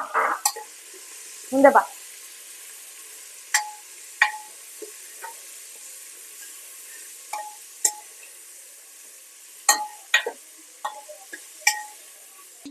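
Chopped onion goes into a hot pan for tomato bath and is stirred, with scattered metallic scrapes and clinks of the spatula over a soft sizzle. A voice speaks briefly near the start.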